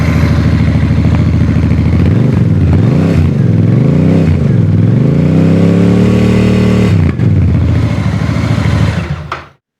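A Royal Enfield Interceptor 650 motorcycle engine revs loudly and repeatedly, the pitch swooping up and down in several throttle blips before settling into a sustained high rev and cutting off.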